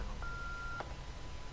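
A short electronic telephone beep in the Until Dawn video game signals a new message: a thin sustained tone with a brief chirp, faint against a quiet low background, with no talking.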